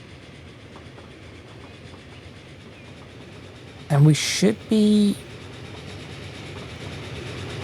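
Trains run in the video game Transport Fever 2 with a steady rolling rumble and clatter. Two short, loud horn-like blasts cut in midway, and someone speaks briefly.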